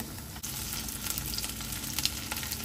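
Small mương fish sizzle and crackle steadily in hot oil, a close, continuous frying hiss with occasional sharper pops and a soft stirring bump near the start.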